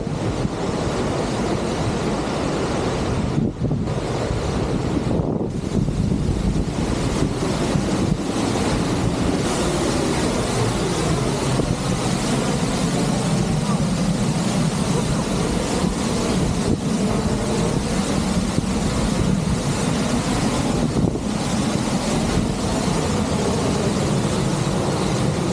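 A constant roar of rushing water from large waterfalls in Canada fills the air, broad and steady, with gusts of wind buffeting the microphone.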